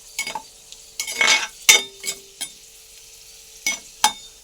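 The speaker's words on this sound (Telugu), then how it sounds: "కిస్మిస్ జీడిపప్పు ఇలా కొంచెం వేపాలి" Raisins and cashews fry in hot ghee, with a soft sizzle under a series of sharp metal spoon scrapes and clinks against the pan, heard close with no talking.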